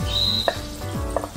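Garlic sizzles in hot oil in a pan for a Spanish-style prawn casserole, a steady close crackle with a couple of light stirring knocks, no talking.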